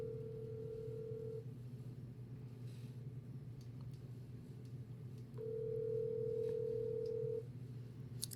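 An outgoing phone call rings back with two long, steady tones separated by a few seconds of quiet, faint against a low background rumble.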